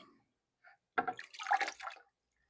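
Water splashes and runs briefly over a rifle part being rinsed after refinishing with a Birchwood Casey kit, a close burst of about a second in otherwise quiet surroundings.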